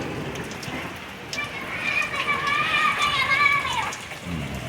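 Heavy rain hisses steadily throughout, and a voice rises over the downpour in the middle.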